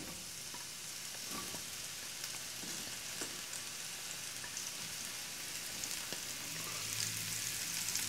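Sliced mushrooms fry in extra virgin olive oil in a pan on medium-high heat, giving a steady, dense sizzle and crackle with a few light stirring knocks, no one speaking.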